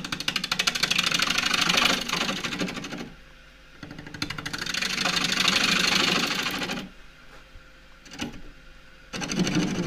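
A wood lathe spins at about 850 RPM while a 3/8 bowl gouge cuts a claret ash natural-edge bowl, giving rhythmic, chattering bursts of cutting that stop and restart in several passes.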